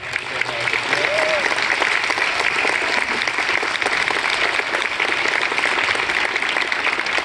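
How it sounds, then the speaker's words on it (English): Sustained audience applause at a school winter concert, a dense steady clatter of many hands filling the whole stretch at even loudness, with a few voices mixed faintly underneath. "I'd like to give them one more round of applause for all the hard work they did."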